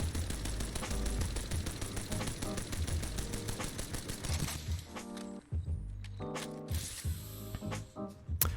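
Rampage LMG from Apex Legends fires a thermite rev-up charge, a dense rapid stream of heavy shots lasting several seconds, then breaking into a few spaced bursts and clanks.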